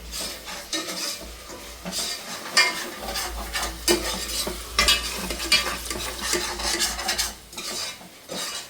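Carrot fry is stirred in a frying pan, a spoon scraping and clinking against the metal in uneven strokes over a soft, continuous sizzle, close and fairly loud.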